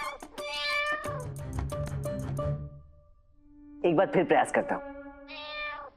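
A cat meows a few times in a period Indian TV comedy scene. The drawn-out, close meows come mostly after someone speaks, with a short gap between them.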